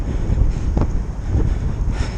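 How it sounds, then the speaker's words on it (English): Icy wind gusting steadily across the microphone outdoors before a fixed-gear 200 km audax ride, a constant low roar with brief rises in strength. "It's an icy wind."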